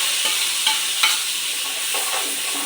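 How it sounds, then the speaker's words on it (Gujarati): Onion paste fries in oil with asafoetida, giving a steady close sizzle broken by several scraping stirs of a spoon through the pan, with no voices. "તો હિંગ નાખીને તરત જ આપણે કાંદાની પેસ્ટ નાખી દઈશું."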